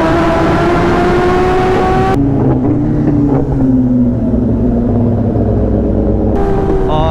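A loud ZX10R 1000cc motorcycle engine roars steadily, with its pitch shifting as it revs up and down, close by and continuous throughout.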